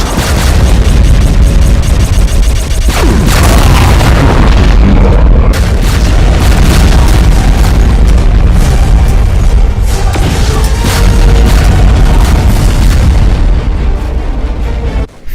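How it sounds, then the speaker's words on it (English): Rapid BFG 10K shots explode in a Doom mod, a dense, loud barrage of booming blasts and bursts overlapping almost without pause, with sharp new detonations breaking through the roar every few seconds. "Firing rapid BFG 10K shots."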